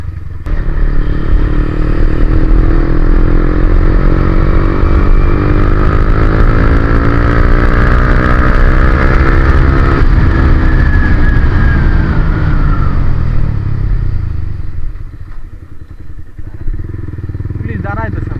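A motorcycle or similar vehicle being ridden fast on the road on the way to a January picnic, its loud engine roaring steadily and rising in pitch before easing off near the end, with no talk over it.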